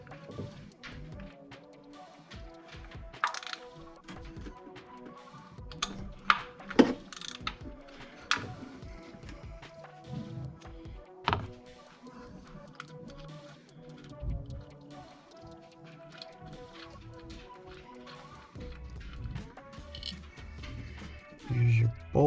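A ratchet with a 10 mm socket clicks in short bursts while loosening a coil pack bolt on a Toyota Tundra engine, quiet close ratcheting and tool handling spread over a long, mostly subdued stretch.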